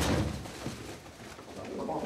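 Decorative pigeons bred in a Cappadocia pigeon house coo in soft, low, rolling calls, close and fairly quiet, blending with faint background sounds.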